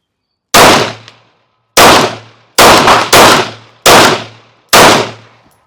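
A pistol fitted with a Delta Point Pro red dot fires six loud, sharp shots at targets, spaced irregularly with two in quick succession, each followed by a brief ringing decay.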